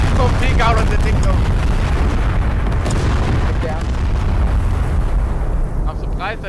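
A loud, rumbling blast from a grenade launcher vehicle in the Call to Arms war game swells into sustained booming roar, close and heavy, with chaotic battle noise and faint voices around it.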